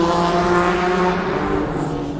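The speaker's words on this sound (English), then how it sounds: "Let's wait for the motorcycle to pass." A loud, steady engine drone of a motorcycle passing close by, its rumble filling the whole moment without any voices.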